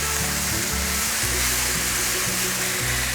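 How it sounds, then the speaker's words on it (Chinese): Taro, mushrooms and other ingredients stir-fried together in a pan, giving a steady, fairly loud broadband sizzle throughout, close up and with no talking, over a low steady hum. "拌炒均匀"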